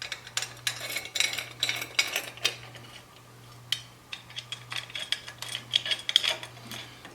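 A 5/16 Allen wrench tightens a bolt on an air cleaner being fitted to a 2016 Harley Tri Glide. Close, irregular metallic clicks and ratcheting taps come in short clusters over a low steady hum, with no talking.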